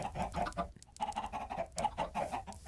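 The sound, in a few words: chickens clucking in the video game Minecraft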